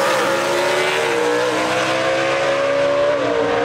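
1962 Chevy II wagon gasser drag racing at London Dragway, a loud, close engine wail holding a high pitch and sliding slightly as it revs, with no talk.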